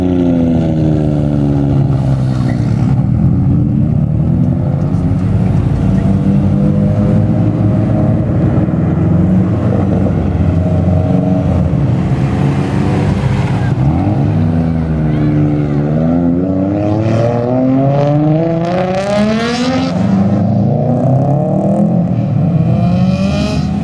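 JDM cars, a Civic Type R, an FD and an Altezza, pulling away one after another as a send-off in Japan, engines revving and rising in pitch with loud close passes, under continuous outdoor noise.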